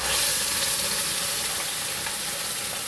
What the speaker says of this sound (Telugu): ఉల్లిపాయలు ఫ్రై అయ్యాయండి, ఇప్పుడు మసాలా వేసుకున్నాము